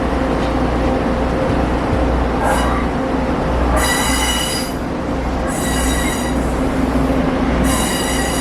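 Train pulling into a station on Taiwan's Pingxi Line, loud and close, with a steady rumble of wheels on rail and repeated high metallic squeals of the wheels as it slows.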